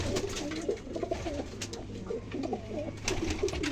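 Pigeon cooing in soft repeated murmurs, close and continuous, with a low steady hum underneath.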